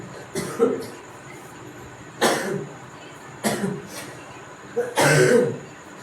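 A man with a cold, teaching Hindi grammar, coughs four separate times with short gaps between, in a quiet room with a faint steady background hum.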